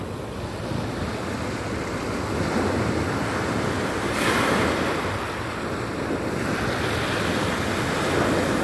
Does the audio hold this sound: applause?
no